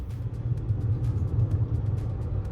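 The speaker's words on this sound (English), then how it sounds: "we are now in the eco mode and we are going at about 50 km/h, and I'll step on the gas" A Hyundai Creta Electric EV in eco mode accelerates from about 50 km/h, heard from inside as a steady low road rumble and a faint motor hum, with no talking.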